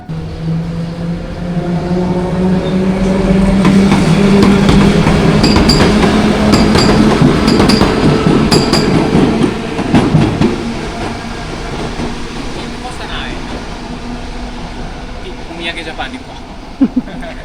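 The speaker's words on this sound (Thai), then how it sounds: "รถไฟมา" A train rumbles in and passes with a steady roar and rhythmic clatter, fading after several seconds while people talk nearby.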